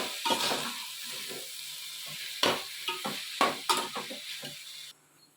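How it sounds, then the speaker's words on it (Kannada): Ivy gourd with tomato and salt sizzles in a pan for thondekayi palya while a spoon scrapes and stirs in repeated strokes. The sound ends abruptly in near silence. "ಈಗ ಚೆನ್ನಾಗಿ ಮಿಕ್ಸ್ ಮಾಡೋಣ"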